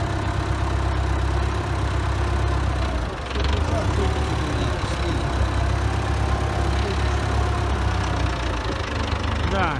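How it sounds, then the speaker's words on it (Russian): An MTZ 921.3 tractor's diesel engine runs close by in a steady, heavy knocking rumble that continues throughout with a brief dip, while someone talks over it. "И МТЗовский простой движок."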